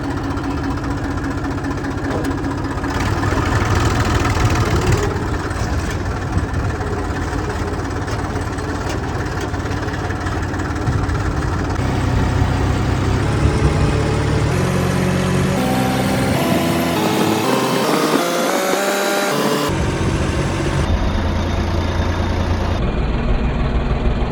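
A tractor engine runs steadily close by with a heavy low chug, its pitch shifting as it revs partway through, and the rumble continues without talk.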